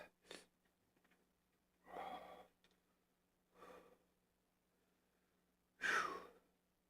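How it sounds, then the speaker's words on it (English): Heavy breathing after a shot of super hot red pepper powder, heard as four separate loud, close exhales and sighs spaced a second or two apart, with near silence between them. "I sure am breathing heavy."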